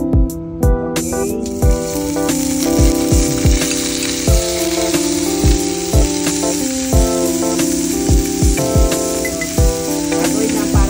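Food sizzles loudly in hot oil for the full stretch, with a steady frying hiss broken by repeated sharp clinks and scrapes of a utensil stirring in the pan.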